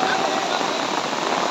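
Dense, unrelenting rainfall hammers a waterlogged village road in Charaideo district, Assam, a steady close wash of drops with a faint tonal hum threaded underneath.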